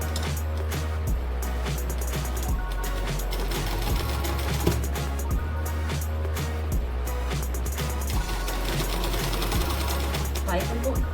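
Sewing machine stitching piping onto a blouse neckline, a continuous close mechanical whir with a low steady drone and a regular stitching rhythm throughout.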